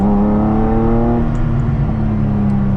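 An RWB Porsche with a manual transmission revs as it drives, its engine note dropping as if shifting gears before settling into a steady, loud drone heard up close from inside.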